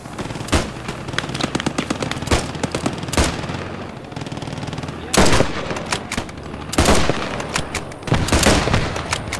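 Machine guns strafing in the Post Scriptum war game, with loud rapid bursts of automatic fire repeating over a dense, constant background of battle gunfire.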